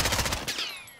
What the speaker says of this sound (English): This is the hardest hitting gun.